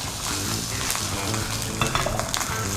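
Loud, steady sizzling of fish frying in a little oil in a non-stick pan, with scraping and clinking as a ladle presses and shifts it.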